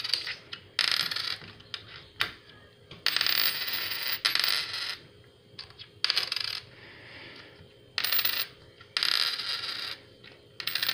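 Silver dimes dropped one after another, giving several bright metallic clinks and brief rattles separated by pauses, faint and close against a quiet background.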